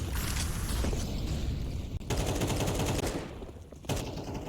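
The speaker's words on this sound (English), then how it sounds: "Opening frag from him, Krimbo." Gunfire during a Counter-Strike 2 esports match, rapid bursts of rifle shots and sharp impacts in dense clusters, broken by a couple of brief gaps, loud and alone without commentary.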